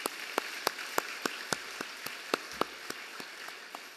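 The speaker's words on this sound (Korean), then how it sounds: "우리 하나님께 영광의 박수를" A church congregation applauds during a Sunday worship service, a steady wash of many hands with sharp, evenly spaced claps standing out at a quick rhythm throughout. No one speaks.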